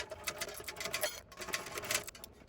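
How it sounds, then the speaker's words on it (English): A home sewing machine stitches a tote bag seam, back-stitching at each end, giving a quick, close, rhythmic mechanical chatter with short pauses and bursts throughout, no talking. "I'm back stitching at the beginning and the end of the seam"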